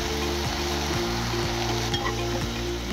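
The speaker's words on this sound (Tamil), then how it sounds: "இதெல்லாம் சேர்த்து நல்லா வதக்கிக்கோங்க." Spices with garam masala, turmeric and salt are sautéed in a pan, giving a loud, steady sizzle with stirring over a low tonal hum.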